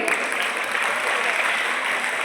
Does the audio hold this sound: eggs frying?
no